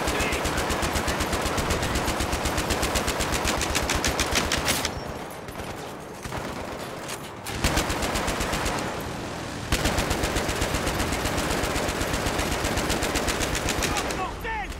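Sustained machine gun suppressing fire in the Battlefield 3 video game, loud rapid bursts that run continuously, break off briefly twice and then resume, close and dominant.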